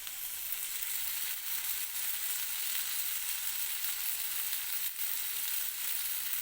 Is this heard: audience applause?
no